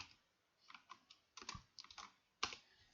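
Keys on a computer keyboard are pressed in short, irregular clusters of clicks, heard close up but faint, with pauses between the bursts.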